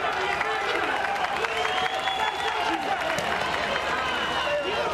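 A boxing arena crowd cheers and roars steadily in support of Russian flyweight Vasily Egorov during a bout at IBA Champions' Night, a dense continuous swell of voices with some clapping, under a commentator talking.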